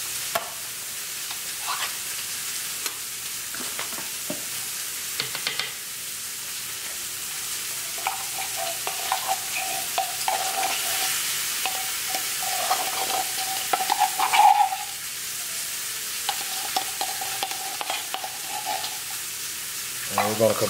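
Oxtails being stirred together with cream of mushroom and roasted garlic, a soft bubbling sizzle with repeated spoon scrapes and clinks, fairly close, plus a brief whistling tone midway and no speech.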